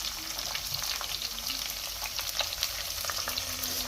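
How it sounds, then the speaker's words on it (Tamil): Sliced onions frying in oil in a clay pot for fish curry, a steady close sizzle with scattered crackles and pops that runs unbroken and alone, with no talking. "இப்போ வந்து வெங்காயத்தை ஆட் பண்ணிக்குவோம்."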